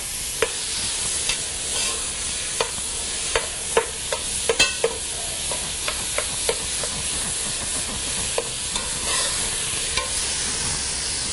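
Ground chicken thigh meat browning in a pot for three bean chicken chili, a steady close sizzle with scattered scraping taps from stirring and no talk.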